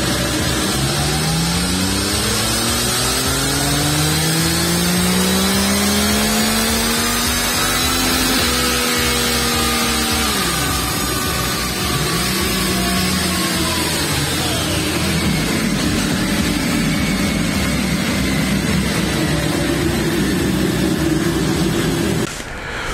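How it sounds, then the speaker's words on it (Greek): Triumph Tiger Sport 660 motorcycle with an inline three-cylinder engine, ridden hard: loud, continuous engine sound with repeated rising and falling revs through gear changes, steady and close throughout, with no talk. "Ο τρικύλινδρος σε σειρά κινητήρας του 660 έχει τα ίδια χαρακτηριστικά απόδοσης που έχει και στο Trident"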